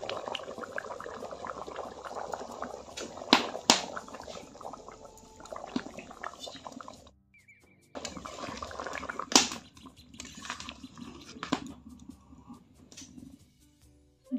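Chicken curry made with country chicken simmers after water is added, a steady bubbling, hissing wash that drops out briefly partway through, then resumes with occasional clinks.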